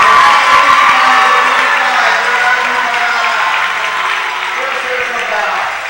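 A Bears home crowd cheers and applauds a call at a high school basketball game in the Coal Bowl tournament, a loud dense roar of clapping and shouting that slowly fades, with an announcer speaking over it.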